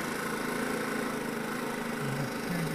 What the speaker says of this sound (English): you give it a bit more revs, and then you go off the clutch and now you're away